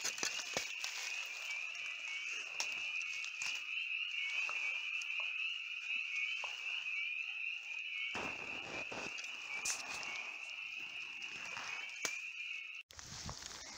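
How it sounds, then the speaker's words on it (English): Spring peepers call continuously at night in a Connecticut mountain forest, a dense high-pitched chorus of peeps with faint rustling and a few soft footsteps or taps nearby. "Hey, we got peepers. Jeepers creepers, we got them peepers."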